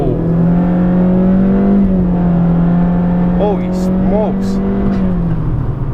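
A tenth-generation 2016-2020 Honda Civic with a small 1.5-liter turbo engine accelerates hard, giving a loud, steady engine drone with rising and falling pitch that carries through the whole run.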